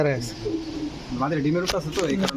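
Pigeons coo repeatedly nearby in soft, throaty phrases, with a voice talking at the same time.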